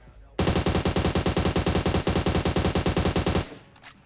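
Automatic fire from an AUG assault rifle in the mobile battle royale game PUBG Mobile, a single sustained burst of rapid, evenly spaced loud shots lasting about three seconds, then a short tail.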